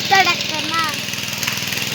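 A tractor engine runs steadily while ploughing a rain-soaked paddy field in Konkan, a near mid-pitched drone with even pulsing under whistling and voices talking at the start.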